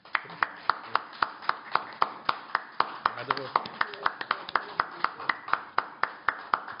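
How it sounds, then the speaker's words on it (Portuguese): Audience applause for a guest lecturer at a Brazilian literary event marking the centenary of the 1922 Modern Art Week, heard as a steady stream of sharp, distinct hand claps from a modest crowd, fairly close and even in rhythm. "eu peço uma salva de palmas para o Wander"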